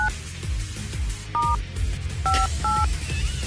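Telephone keypad dialing tones on a phone, several short paired-tone beeps in irregular bursts, clear and fairly loud over a low background hum.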